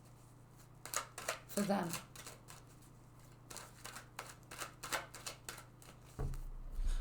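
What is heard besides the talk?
shuffling and drawing tarot cards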